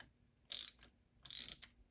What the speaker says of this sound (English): Using 10mm wrench or socket,